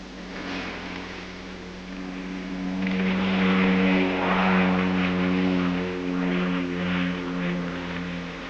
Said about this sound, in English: the Duke departs in an Andover aircraft of the Queen's flight